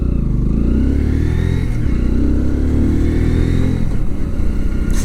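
Kawasaki Z125 Pro motorcycle being ridden through city streets, its small engine whirring steadily up close with a light whistling whine that rises and falls with the throttle.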